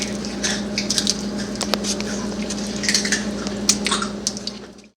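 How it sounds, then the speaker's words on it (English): Ground meat spread over a keto pie crust, wet squishing and soft patting sounds repeating close by, fairly loud, with a steady low hum underneath. "just add the meat on top"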